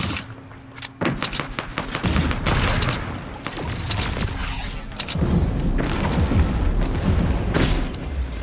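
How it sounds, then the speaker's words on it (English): In the video game Fortnite, dense gunfire and booming impacts roll on almost continuously, loud and chaotic, as heavy shots and explosions layer over one another. "I think we're getting shot from a different direction now."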